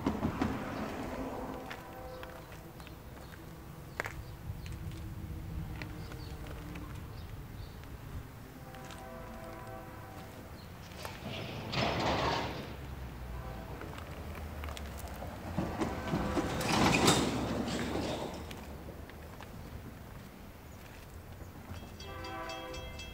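An empty coal train led by a BNSF Heritage 1 locomotive with a Union Pacific unit behind rolls through town, its wheels with flat spots thumping rhythmically, the horn sounding in bursts above the steady rumble and clatter.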